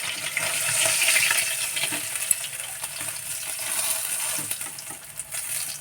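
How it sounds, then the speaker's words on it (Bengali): Tilapia fish fry in hot oil with a continuous crackling sizzle, dotted with small clinks and pops, moderately loud and steady throughout. "তো মাছ কটা ভাজা হয়ে গেছে,"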